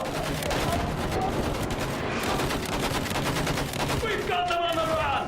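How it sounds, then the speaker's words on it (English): Dense, continuous machine gun fire rattles through a Battlefield 1 trench battle, loud and sustained with overlapping bursts, and a few whistling tones rise near the end. "Use that machine gun! Mow them down!"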